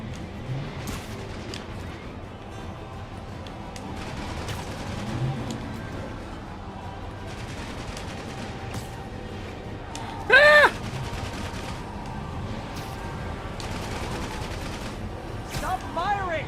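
Rapid gunfire crackles through combat in Marvel's Spider-Man, with bursts of machine-gun-like shots repeating against steady background noise and voices.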